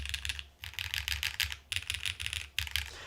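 Fast typing on a Space 80 R2 mechanical keyboard fitted with M1 switches and an FR4 plate, close dense clacking in three quick bursts separated by short pauses.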